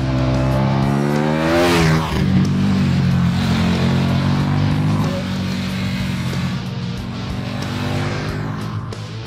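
A 2014 KTM 1290 Super Duke R motorcycle with a 1301cc LC8 V-twin engine roars loudly at close range on a racetrack, its engine note rising sharply through a hard acceleration and then holding a steady, throaty drone.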